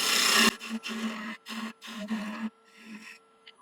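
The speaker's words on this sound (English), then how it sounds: "I'm going to get this sanded" A wooden ladle is sanded on a lathe in short rasping bursts, about five strokes in a row with brief gaps between them, close and fairly quiet.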